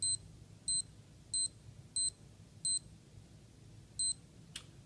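A Marathon ADANAC watch countdown timer alarm beeps, six short high-pitched electronic double-chirps in an even rhythm, close and clear over faint background hiss.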